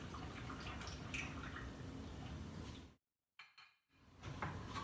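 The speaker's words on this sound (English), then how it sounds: "Then we're going to add the water in." Water is poured into a Nutribullet cup over mango and pineapple for a green smoothie. A steady, close splashing rush plays for about three seconds, then stops abruptly, followed by a few faint clinks.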